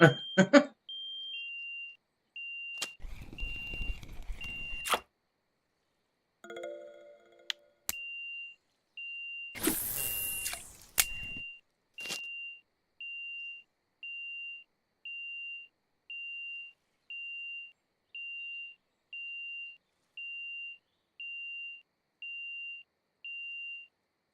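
Repeated electronic beeping alarm from the Russian Fishing 4 video game, a steady train of evenly spaced tones running for well over ten seconds, preceded by a few scattered bursts of noise and clatter.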